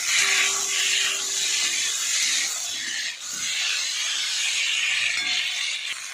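A spice paste of tomato, cumin and chilli sizzles hard with fried taro and potato, a loud steady hiss that runs throughout with a brief dip midway.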